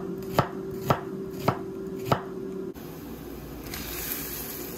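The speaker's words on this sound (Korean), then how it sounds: "그냥 양파만 대충 썰어서 넣어줄 겁니다" A knife chops onion on a cutting board in four sharp, evenly spaced strokes, close and clear, followed by quieter handling noise.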